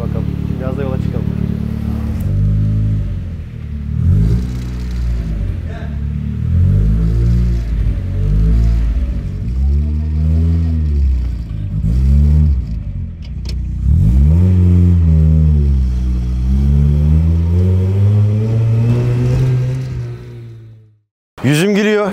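A modified car's engine revs repeatedly in rising and falling sweeps, then holds a steady, loud pull as the car drives off, close by and dominant throughout before cutting out abruptly at the end.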